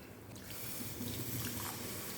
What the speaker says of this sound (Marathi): त्याच्यामध्ये आपण अर्धा ग्लास आपण दूध घालूयात